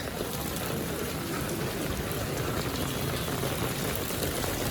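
Heavy rain pours in Surat with floodwater flowing, forming a dense, unbroken wash of hissing, rushing water that stays steady at moderate loudness for the whole stretch.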